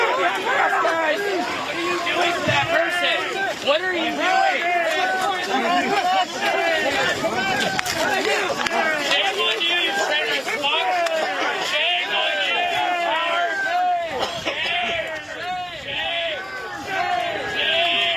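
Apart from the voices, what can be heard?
crowd of protesters chanting and shouting at federal agents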